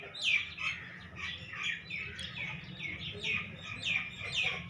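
Small birds chirping in a home garden beside grass set out for nesting, a steady run of quick bright tweets repeating at close range over a low background hum.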